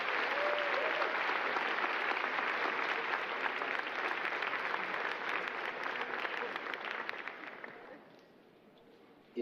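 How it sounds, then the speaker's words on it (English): A large audience at a Clarkston High School graduation ceremony applauds the graduates' guests, a loud, dense, sustained wave of clapping that gradually thins and fades away near the end. "one last round of applause for all of your guests this evening"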